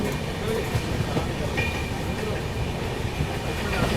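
Vikramshila Express running non-stop toward Kanpur, a steady loud rumble of wheels and carriage noise heard from on board, with faint clicks and rattles and no pauses.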